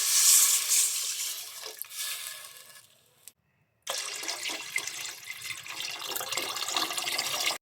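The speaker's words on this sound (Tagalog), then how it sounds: "Lagyan natin ito ng tubig." Water pours into a cooking pot for shrimp sinigang, a rushing splash that fades, briefly cuts out, then resumes as a steady close stream.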